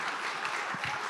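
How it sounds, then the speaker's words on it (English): Audience applause for a biotech panel at a live-streamed event, a brief, fairly faint wash of clapping with a few low thumps near the end. "Round of applause,"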